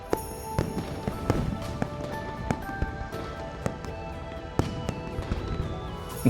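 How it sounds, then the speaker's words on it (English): Fireworks pop and crackle repeatedly in the Love and Deepspace game during a New Year's scene, sharp bangs scattered irregularly over a busy, continuous background. "The fireworks are too loud."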